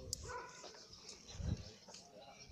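A dog barks and whimpers somewhere along a road, faint and partly masked by steady background noise, with brief voices mixed in.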